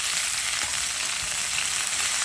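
Unripe Malabar spinach fruits fry in a pan with a steady, dense hiss of hot oil, close and even throughout the short stretch with no voices.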